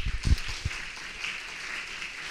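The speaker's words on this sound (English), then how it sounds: "So please, a warm applause for Ayumi Paul." An audience welcomes an artist on stage with faint, distant applause that opens with a few thumps and then thins into a soft, fading patter.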